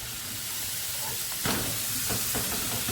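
Spaghetti bolognese sauce bubbles and sizzles as it cooks down in a pan, a close, continuous hiss with a louder stir or burst of steam midway and a few more scrapes after.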